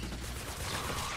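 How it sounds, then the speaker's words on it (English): Mercury LMG laser gun in Fortnite Save the World fires a dense, continuous barrage, loud and close for just over a second with no talking. "You ever wanted a giant laser gun that you could like melt everyone into dust?"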